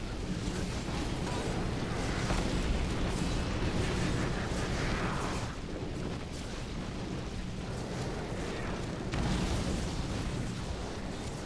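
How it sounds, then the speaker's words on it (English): Meteor spells rain down in Diablo 3, producing a dense, continuous rumble of booming game explosions that swells and dips without pause. "Just keep bombarding him with your meteor."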